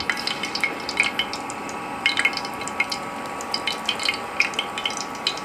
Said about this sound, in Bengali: এখন আস্তে আস্তে দিয়ে গোল গোল করে চ্যাপটা চ্যাপটা করে দিয়ে কড়া করে ভেজে নিতে হবে